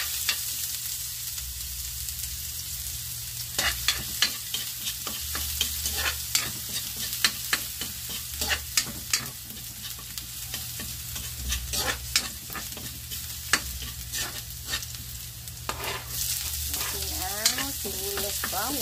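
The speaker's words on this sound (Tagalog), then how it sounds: "Sibuyas bawang. Simpleng ano lang to, parang gigisahin lang natin, pero lalagyan natin siya ng lagyan natin siya ng bagoong." Onion and garlic sautéing in hot oil with shrimp paste, a continuous close sizzle broken by frequent scraping and stirring strokes of a utensil against the pan.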